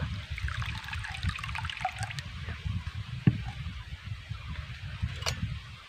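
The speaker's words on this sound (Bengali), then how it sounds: "এর মধ্যে অল্প করে জল দিয়ে দেব" Water is poured in a small amount into sugar in a bowl, giving a steady soft trickle and splash that runs for several seconds, close and moderately quiet, with no talking.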